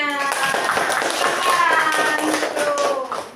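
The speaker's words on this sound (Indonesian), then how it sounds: "Tepuk tangan semuanya" Classroom pupils clap their hands in a brief burst of scattered applause, with voices and tonal chatter mixed in throughout.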